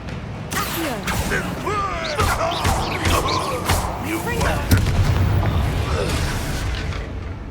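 Confringo spell explosions in the video game Hogwarts Legacy bang out over a dense, loud battle mix, with booming blasts and layered effects under game voices speaking throughout.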